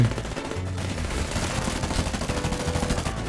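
Continuous rapid gunfire in the FireFront mobile online shooter, a sustained clatter of automatic weapons and scattered shots throughout, loud and dense with battle ambience.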